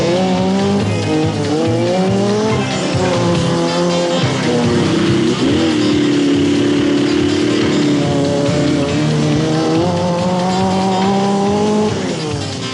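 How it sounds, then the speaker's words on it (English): A rally car in the 1992 Australian Rally Championship corners hard on a loose surface, the engine rising and falling through gears with constant loud roar and tire noise, sustained and close throughout. "Jamie Morgan in car number 37 demonstrated the art of cornering with a dose of pike"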